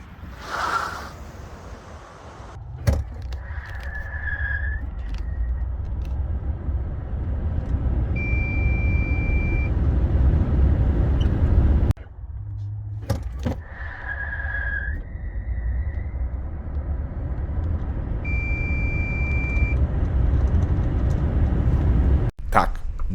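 Ford F-150 Lightning 580 hp electric pickup, all-wheel drive on dry pavement, accelerating hard to 100 km/h twice, with steady low-pitched rushing road and wind roar, chimes from the cabin, and a brief drop between runs.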